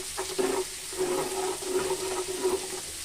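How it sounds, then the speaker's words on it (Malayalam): Okra curry cooks in a pan while it is stirred, giving a continuous soft sizzling and bubbling hiss with gentle scraping surges, no talk over it. "ഇതിപ്പോൾ ഞാൻ നല്ലപോലെ ഒന്ന് ഇളക്കി കൊടുത്തിട്ടുണ്ട്"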